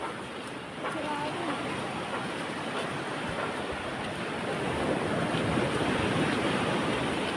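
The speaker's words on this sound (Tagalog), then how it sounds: "Yung malalaki na alon mo." Big ocean waves after a typhoon roll and crash against a rocky shore, a steady broad roar of surf that builds slightly louder toward the end.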